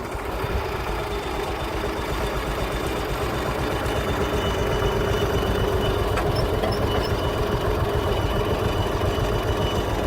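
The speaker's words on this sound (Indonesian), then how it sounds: "Dan di depan itu lokomotif diesel Hokuriku nomor 6." A Hokuriku diesel locomotive rumbles steadily nearby, its low engine drone and rolling rail noise continuous and fairly loud throughout, with a faint squeal or whine appearing briefly midway.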